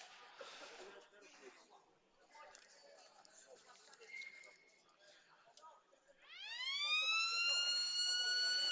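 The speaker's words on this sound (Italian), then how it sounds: "Tanto la sirena dice che si può ripartire" At a futsal match, a loud rising siren cuts in after several seconds of crowd noise and commentary, then holds steady to signal the restart of play.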